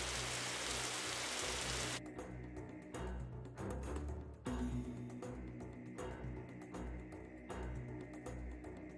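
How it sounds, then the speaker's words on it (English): Rain in an Unreal Engine 5 horror game falls as a dense hiss that cuts out abruptly after about two seconds, leaving fainter rain patter and low ambient tones with intermittent bursts. "Ain't no horror game that got these rain effects."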